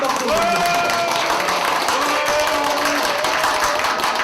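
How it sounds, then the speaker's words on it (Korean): Audience applause at a youth doctrine-practice speech contest award ceremony: steady, dense clapping that fills the room for several seconds, with faint tonal sounds drifting underneath. "큰 박수 부탁드립니다"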